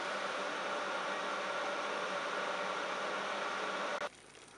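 Cookeo electric multicooker running during cooking, a steady hiss and hum with fan-like whir that holds constant, then cuts off abruptly near the end.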